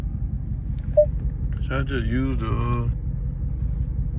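A straight-piped Hellcat engine rumbles low and steady throughout, a deep droning bed under a brief spoken remark from inside the car.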